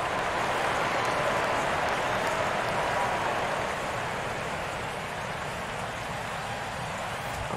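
A large stadium crowd of tens of thousands roars in MLB 12 The Show, a broad, continuous wash of cheering and applause at fairly even loudness that eases slightly midway.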